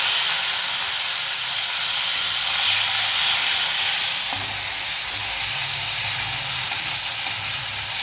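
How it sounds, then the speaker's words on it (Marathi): Tomatoes sauté in a pan with garlic for a green onion vegetable dish, giving a loud, steady hissing sizzle throughout with faint stirring, and no voices. "टोमॅटो छान परतून घ्यायचं आपल्याला."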